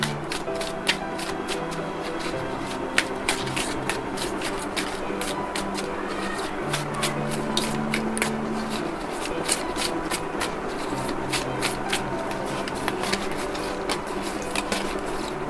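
Oracle cards for a tarot reading are shuffled by hand in a steady run of soft, rapid riffling flicks and slides, close up and fairly quiet, with no voice over them.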